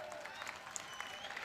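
Spectators at a wrestling bout clap together, a scattered, distant patter of applause with a few sharper claps standing out, faint and steady across the moment.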